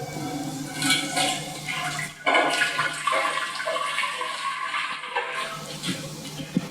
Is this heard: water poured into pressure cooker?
yes